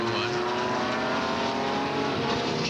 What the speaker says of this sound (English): Car's handling well. Just drifting it nicely through turn 1.